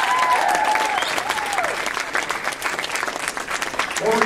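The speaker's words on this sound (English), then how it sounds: "Let's have a round of applause" A conference audience claps for a panelist, continuous crowded applause that stays steady, with a voice speaking over the start and end.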